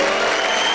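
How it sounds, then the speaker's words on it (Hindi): Audience applause at a Rajasthani comedy and poetry show, a brief dense burst of clapping from a crowd, loud and continuous for under a second. "जरा जोरदार तालियां बताइए"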